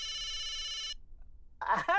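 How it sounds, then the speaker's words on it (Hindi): A telephone rings with a steady electronic trill for about a second, then stops, and a voice speaks shortly after. "अरे मेहता साहब का फोन।"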